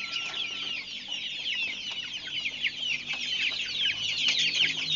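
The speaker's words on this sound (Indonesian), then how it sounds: "Lahap banget makan maggot tuh" One-month-old KUB chickens, including brown naked-neck birds, clucking and chirping steadily and fairly close while eagerly pecking at maggots, a busy continuous flock chatter with no talk.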